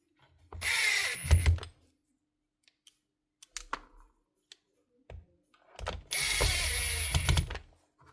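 A badly damaged Makita power drill's motor whirs loudly in two bursts of a second or so each, separated by a few quiet seconds with faint clicks and handling noises.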